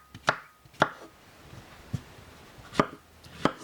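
A knife chopping white button mushrooms on a cutting board, five crisp separate knocks with uneven gaps between them, close and fairly quiet in an otherwise still kitchen.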